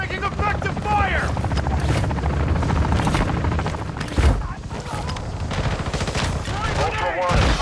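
Gunfire during a Call of Duty DMZ raid, bursts of shots and a boom mixed with helicopter rumble, layered under nearly continuous voices and radio-style game chatter.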